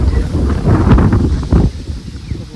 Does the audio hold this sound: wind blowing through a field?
yes